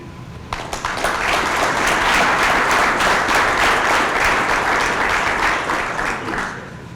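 Applause from the audience at an award banquet, a dense, steady round of many hands clapping that swells in quickly, holds loud for several seconds, then begins to thin toward the end.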